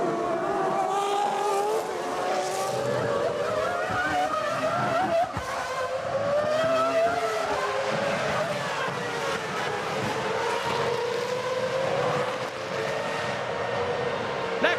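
Formula One cars lapping Monza at the 2001 Italian Grand Prix through the Curva Grande, engines screaming continuously with rising and falling pitch as cars pass, loud and sustained, with a commentator's voice faintly underneath.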